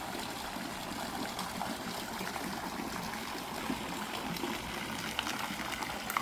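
Water in a backyard hot tub beside a custom pool bubbles and trickles in a steady, soft, continuous wash, heard from a short distance with no voices.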